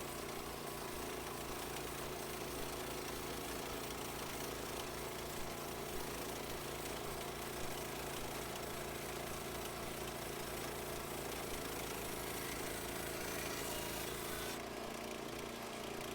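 A bandsaw mill cuts through a walnut log, its engine and blade producing a steady, loud, continuous drone and rasp that persists without a break.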